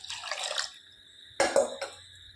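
Water splashes briefly into a pot with grated ginger, one burst followed by two shorter gushes, close and fairly quiet.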